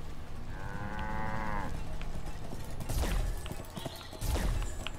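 Cow in the video game Wytchwood: one drawn-out moo rings out clearly near the start, followed by lighter thuds and shuffling sounds.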